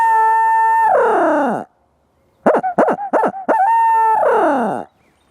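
A turkey locator call imitating an owl gives long, high-pitched hoots, made of sustained wavering tones with a rapid burst of short hoots in the middle. The sound is close, loud and alone.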